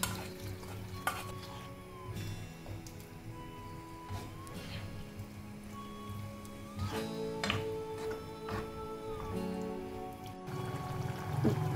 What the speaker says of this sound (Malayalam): വേവിച്ച് വെച്ചേക്കുന്ന കടല ഉരുളക്കിഴങ്ങ് ഇതിലേക്ക് ചേർത്ത് കൊടുക്കാം